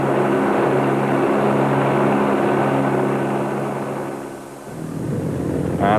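A BMW twin-cylinder rally motorcycle engine races in the 2001 Dakar Rally, a steady droning roar that dips and fades near the end before swelling back up.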